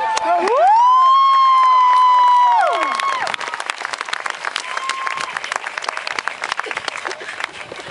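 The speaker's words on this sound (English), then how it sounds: "Please give a big round of applause for Colton Oviatt." A graduation crowd at a high school valedictorian speech breaks into applause and cheering, opening with a loud sustained whoop and shouts, then settling into steady, dense clapping from many hands.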